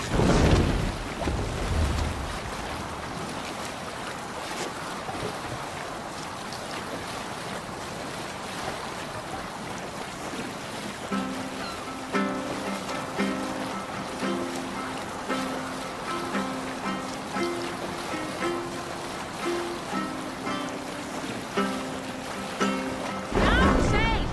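A sailing ship moves across open water in Assassin's Creed Valhalla, with waves washing, wind and creaking motion throughout, some faint voices and tonal musical notes rising midway.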